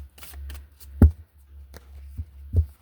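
A deck of cards being shuffled by hand, with a few soft riffling bursts and one sharper snap of cards near the middle, close and fairly quiet, with no talking.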